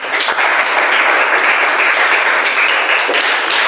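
Dense, loud applause from a classroom group of students at a teaching performance exam, continuous clapping filling the whole stretch without voices.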